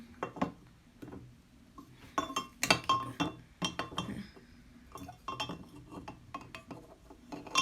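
Plastic clicks and clinks from fitting and closing the lid of a unicorn-themed cup, a scattered run of small, close, fairly quiet taps and knocks.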